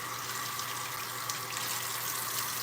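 Tap water runs in a steady, close splashing stream as an eggshell is rinsed out under the faucet, a continuous hiss of water with no voices.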